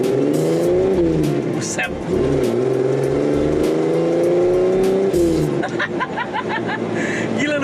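A Jeep CJ-7 with an inline-six engine revs and accelerates hard, the loud engine tone rising and falling through gear changes, while people talk inside the vehicle.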